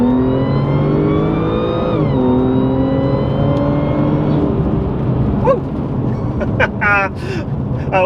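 Supercharged 500 bhp Audi A4 accelerating hard, with loud rising engine and supercharger whine climbing through gears close by, then easing off as brief sharp squeaks and clatter appear at the end.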